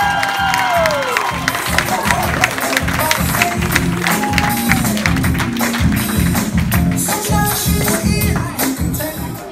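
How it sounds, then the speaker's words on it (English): Guests at a wedding clap their hands for the newlyweds, Mr. and Mrs. Damon Demond Henderson, a steady crowd applause of many hands with cheering voices and talk mixed in, loud and close throughout. "give them a hand clap"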